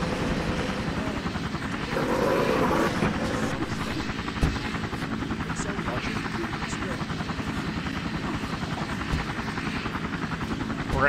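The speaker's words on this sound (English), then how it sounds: "You guys clear landing zone for the chopper, please." Helicopter in the emergency-response game Emergency 4 with the LA Mod, a continuous loud rotor drone that stays steady under the game's other sounds.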